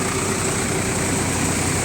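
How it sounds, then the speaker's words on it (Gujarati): A Sonalika 745 tractor runs load-free at about 1250 rpm with a constant, close, low-pitched engine drone and a faint vibrating hum, alone and unchanging for the whole stretch. "બારસો સાડા બારસો આરપીએમ પર ચાલે છે સાડા બારસો અને બિલકુલ લોડ ફ્રી ટ્રેક્ટર ચાલે છે"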